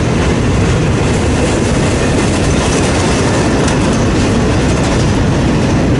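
Conrail freight locomotives roar past at very close range on the Fort Wayne Line, a loud, saturated rumble of diesel engines and clattering wheels that fills the whole stretch.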